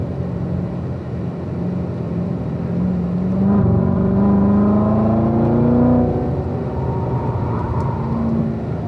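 A race car circles a track, its engine droning steadily then revving higher through an upshift before settling back, loud and close throughout with no voices.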